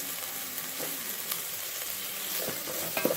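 Green chilies fry in ginger garlic paste in a pan for Dindigul chicken biryani, giving a steady close sizzle with small scattered pops and no talking.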